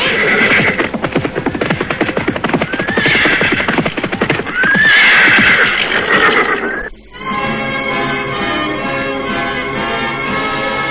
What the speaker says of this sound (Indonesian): mendadak saat itu nampak rombongan orang-orang berkuda mendekat